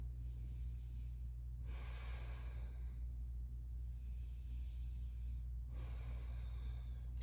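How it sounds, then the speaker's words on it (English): Slow, steady breaths during a beginner chair yoga session, two long airy inhalations or exhalations rising and falling close to the microphone over a constant low hum, with no talking. "I'm just breathing here."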